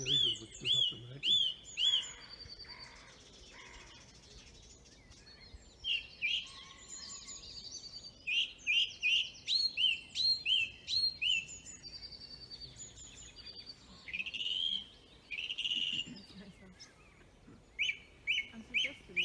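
A song thrush sings in an April dawn chorus, with repeated bright whistled phrases in short bursts and pauses between them, while other birds call and someone talks softly at times.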